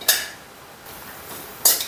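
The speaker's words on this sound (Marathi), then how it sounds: "हे बदाम बी आपण थोडेसे असे गरम करून घेत आहे" Almonds dry-roasting in a pan give two sharp scraping, clattering bursts of stirring, one at the start and one near the end, with quiet, faintly hissing heat in between and no voices.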